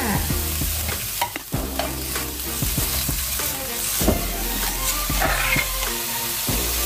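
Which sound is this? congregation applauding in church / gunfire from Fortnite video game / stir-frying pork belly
stir-frying pork belly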